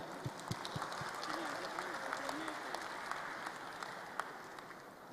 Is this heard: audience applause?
yes